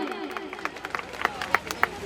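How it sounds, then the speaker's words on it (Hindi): An audience at a Maharaja Agrasen Jayanti ceremony in Rampur Maniharan claps in scattered, uneven bursts beneath a loud voice and crowd murmur, with distinct individual claps standing out as the clapping builds. "जोरदार ताली की गड़गड़ाहट के साथ इनका सम्मान किया जाए।"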